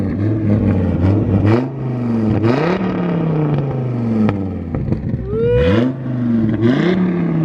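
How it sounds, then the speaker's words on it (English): A 2002 Dodge Viper V10 with a Boyle exhaust revs up several times in quick bursts, loud and close, each rise in pitch dropping back to a rumbling idle. "Give it a couple revs."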